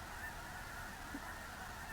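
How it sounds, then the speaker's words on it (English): Trumpeter or tundra swans call from across open Missouri bluff country, a steady honking chorus carried on a continuous wash of distant, fairly faint sound. "I'm just grabbing some shots of some more trumpeter or tundra swans."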